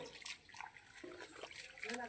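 A child splashes about in rainwater in a village on a rainy day, giving faint, continuous watery sloshing and spattering while an adult voice speaks nearby.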